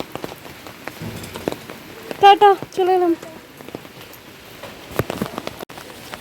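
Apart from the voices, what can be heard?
rain falling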